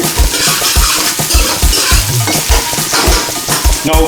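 Pork frying in a pot, stirred with a spoon: rhythmic scraping strokes about twice a second over a constant bright sizzle, close and loud.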